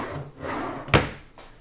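A wooden drawer in a chest of drawers at a Disney All-Star Movies Resort hotel room slides and bumps shut with one sharp knock, preceded by a soft sliding rustle and followed by a faint thud.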